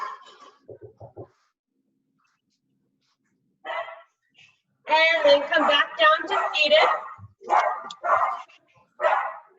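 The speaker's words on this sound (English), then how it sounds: "I knew we couldn't get through this without a dog bark." A dog barks in a quick cluster of several sharp, fairly close barks during a yoga session, following quieter stretches in which a person talks.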